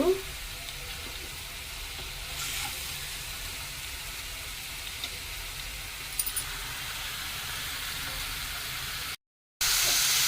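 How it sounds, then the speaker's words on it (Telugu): Onions frying well in a pan for a fish fry, a steady close sizzle hissing throughout with a few faint stirring clinks, cutting briefly to silence near the end before the sizzle returns. "ఇట్లా ఈ ఆనియన్స్ బాగా మంచిగా వేగాలండి"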